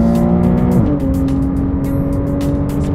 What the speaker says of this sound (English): it makes the exhaust a little bit more throatier